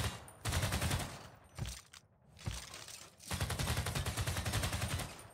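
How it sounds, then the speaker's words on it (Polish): Ranged attack in Civilization 6 fires as dense rattling volleys of gunshots in long bursts, broken by brief pauses, loud and continuous with no talk. "Dobra, strzał. Strzał."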